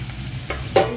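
Soaked shiitake mushrooms and peanuts are stir-fried together in a pan as filling for zongzi, giving a soft scraping sizzle with two brief louder stirring bursts, no talking.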